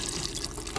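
A brief splash of water pours into a smoothie mix of grape tomatoes and cheese, a short, close trickle ending in a sharper burst.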